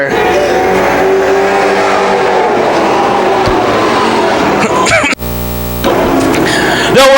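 Pack of pro/street stock race cars roaring past at Can-Am Speedway on a green-flag start, a loud, dense engine wash building as cars pass close, then a sharp cut to a fresh burst of revving engines.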